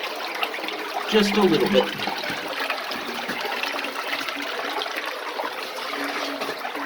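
Cave stream water running over rocks inside Spanish Cave in British Columbia, a steady wet trickle and wash that carries on throughout, with a person speaking briefly over it early on.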